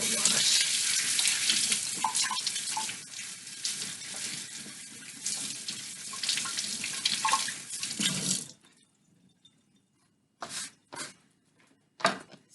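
Vegetables washed under a running kitchen tap, steady splashing water for about eight seconds, then the tap shuts off and a few short splashes follow.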